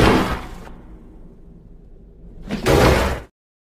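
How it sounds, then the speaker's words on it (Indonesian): A door is forced open by police in a film scene: a heavy burst opens the sound, a quieter lull follows, then a second loud crash before sudden silence. "Polisi juga sudah berhasil menjebol pintu dan si Jack langsung ditembak"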